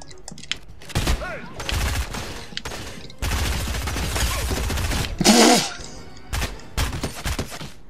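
Fortnite gunfire crackles in several rapid bursts separated by short gaps, loud and close, with a brief voice in between.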